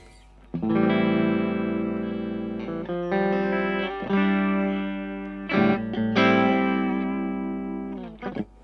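An electric guitar with a clean tone through a silicon fuzz pedal plays sustained, harmonically rich chords and notes, a few strums ringing out over several seconds with brief gaps between them, no voices.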